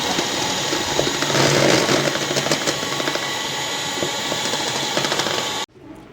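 An electric mixer whirs steadily through an egg and sugar mixture with vanilla extract, a dense, even mechanical buzz that runs loud and close for several seconds before cutting off abruptly near the end.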